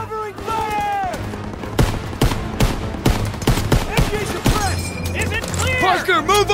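Machine gun fire in the Call of Duty WWII video game rattles in rapid bursts, close and loud, under shouted voices and other battle noise.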